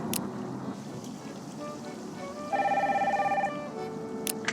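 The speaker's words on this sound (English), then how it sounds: "Get the phone, please." Telephone ringing in a Nancy Drew video game, one steady electronic trill lasting about a second over a soft ambient background hum.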